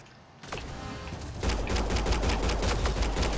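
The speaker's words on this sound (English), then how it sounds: "They shot him!" Gunfire in the sci-fi shooter Mass Effect: Andromeda, a rapid crackle of automatic shots that starts sparse, then becomes a loud, continuous rattling fusillade with heavy low booms underneath.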